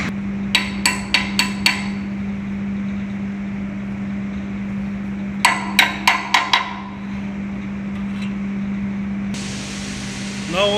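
Metal key hammered onto a fan motor's shaft during an overhaul: two quick bursts of five sharp, close strikes each, with a steady electrical hum running underneath throughout.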